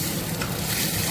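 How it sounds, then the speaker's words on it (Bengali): Water hitting elephant-foot yam and taro frying in a pan, producing a loud, dense, close hiss that fills the whole moment without pause. "এবার আমি এর মধ্যে জল দিয়ে দেবো।"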